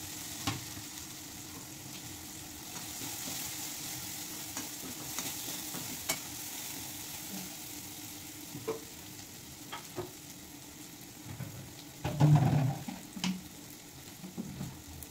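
Tomato and grated coconut are stir-fried with banana stem in a pan, a quiet, steady sizzle broken by occasional scraping stirs, with a brief louder burst of clattering near the end.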